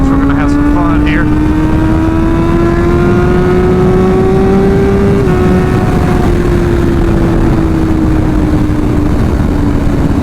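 A motorcycle engine drones loudly and steadily while riding at speed on a sunset cruise, with a rising and falling pitch against heavy wind rush.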